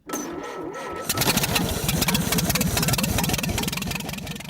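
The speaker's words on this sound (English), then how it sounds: "that's a 1929 Model A engine on the ice saw, because no matter how cold, that engine always starts" A 1929 Model A engine powering an ice saw during winter ice harvesting in northern Minnesota starts with a quick catch after a faint lead-in, then runs loudly and steadily with a rapid, rattling chug.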